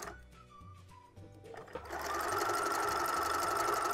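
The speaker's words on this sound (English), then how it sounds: "We're going to want to take that and fold it down and sew it." Sewing machine stitching down a folded skirt band, starting with a few hesitant hums and clicks before settling into a loud, steady, fast whirring run up close.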